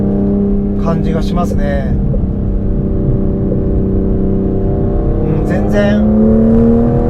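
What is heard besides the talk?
Aston Martin Vanquish V12 engine and exhaust, valves opening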